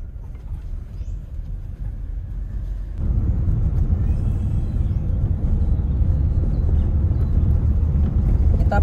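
Cabin sound of a 2021 Honda Brio E pulling away: a low engine hum that grows louder and fuller at once as the car accelerates, then holds a steady rumble with road noise, no speech.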